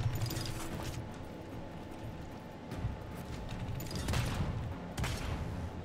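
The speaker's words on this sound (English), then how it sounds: "someone's already shooting, hopefully, but not at me" Gunfire from a Realm Royale match comes in scattered sharp shots and short bursts at middle distance, over a low ambient hum.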